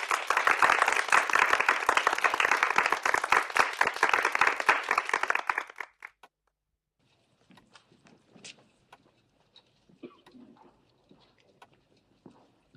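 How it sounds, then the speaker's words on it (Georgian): Dense rhythmic clapping from a crowd rings out loudly for about six seconds, then cuts off abruptly, leaving near silence broken by faint scattered knocks and footsteps. "ტაში ბატონებო"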